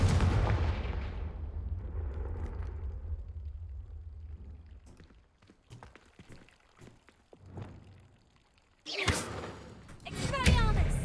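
A Confringo spell blast in a Harry Potter video game, a deep booming burst at the start that rumbles and fades, followed by scattered thumps and crackles, with a sharp bright burst near the end.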